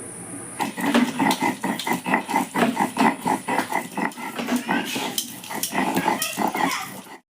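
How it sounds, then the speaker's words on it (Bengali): Ginger and garlic are ground together on a flat grinding stone, producing steady rhythmic rubbing and scraping strokes that repeat close up and loud, with faint background clatter. "আর এই রান্নাটির জন্য আমি সবার আগে আদা রসুন পাটাতে বেটে নেব"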